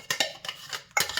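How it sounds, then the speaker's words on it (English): Ingredients scraped out of a bowl while making Solomon Gundy, with crushed thyme and a Scotch bonnet pepper: three close, scratchy bursts of utensil against the bowl, separated by short pauses. "So we're just going to scrape everything we can out of here,"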